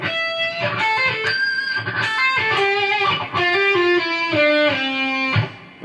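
Distorted electric guitar plays a fast solo phrase from a song, sliding down through notes on the neck, loud and close with a steady driven tone and no voices.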